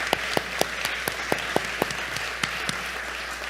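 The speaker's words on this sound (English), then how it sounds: "please join me in a round of applause and gratitude to Dignity Memorial" Sparse applause from an audience at the HUGStar Awards 2023 gala, a scattering of individual claps at a moderate distance with no talking.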